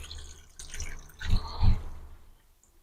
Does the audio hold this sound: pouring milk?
yes